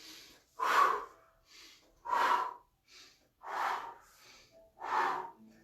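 Five loud, evenly spaced breaths close to the mic, about one every second and a half, from a person leaning in with chin and head down during a stretching exercise.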